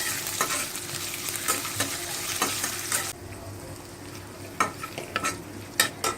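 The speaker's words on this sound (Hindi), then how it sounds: "हरी मिर्च डालेंगे, अदरक डालेंगे और इसको भून लेते हैं।" Green chili and ginger sautéing in a pan, a steady sizzle broken by sharp scraping stirs; the frying noise drops away midway, leaving quieter intermittent spoon scrapes.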